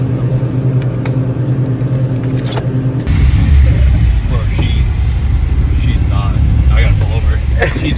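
Car engine struggling and bogging after sucking in water through its air filter from driving through a huge puddle, a loud rough rumble with uneven revving that grows harsher partway through, under excited talking.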